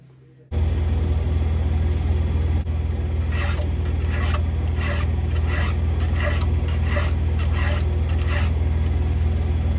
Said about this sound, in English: I'm filing my saw and make it as sharp as I possibly